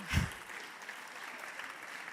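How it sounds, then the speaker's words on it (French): Applause in the French Senate chamber for fellow rapporteurs, a steady wash of clapping at moderate level with a brief louder burst at the start and no talk over it. "Oui, vous pouvez les applaudir."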